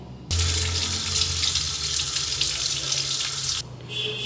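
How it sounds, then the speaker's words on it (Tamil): A single guava is rinsed under a running kitchen tap, a steady loud rush of water that starts abruptly, pours continuously for a few seconds, then stops before a softer trickle. "இதை கழுவிட்டு வரேன்"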